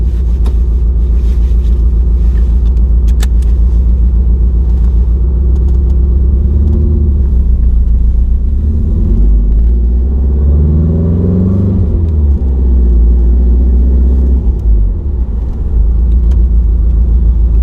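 A supercharged Subaru car with a slash-cut pulley rumbles loudly from inside the cabin, engine droning steadily and then revving up as it accelerates through the gears, a deep continuous roar with no talk.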